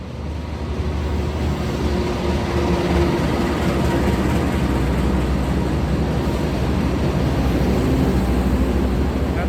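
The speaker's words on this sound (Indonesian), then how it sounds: "Ini ada kereta api Manahan baru masuk" A regular Manahan passenger train pulls into Solo Balapan station at night, a loud steady rumble of wheels and engine filling the platform with continuous broadband noise and a low droning hum throughout.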